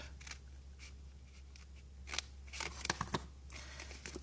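Scissors snip small paper squares for origami stars, a handful of quiet crisp cuts, sparse at first and then several quick snips close together near the end.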